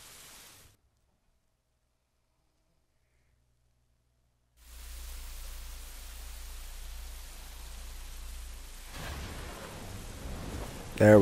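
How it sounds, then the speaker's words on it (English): Steady rain with a low thunder rumble fills the second half after a stretch of near silence, a dense even hiss with a louder burst near the end. "it's raining"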